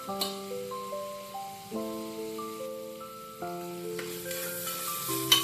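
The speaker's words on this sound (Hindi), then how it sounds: "मसाले को हम अच्छी तरह से भूनेंगे" Turmeric, red chili and coriander powders fry in a pan for a veg biryani, giving off a soft, steady sizzle. The frying sounds faint and continuous beneath louder background music.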